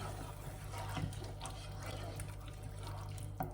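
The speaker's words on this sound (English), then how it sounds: "Now that it's boiling, you can see more steam and you'll start to see bubbles forming." Pot of water at a boil for pasta, a soft continuous bubbling and gurgling with a low hum beneath, faint and steady throughout.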